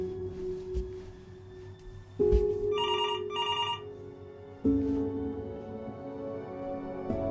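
Telephone in Before Your Eyes, ringing in two short electronic bursts over a low droning ambient backdrop with soft thuds, distinct and fairly close, no voices present.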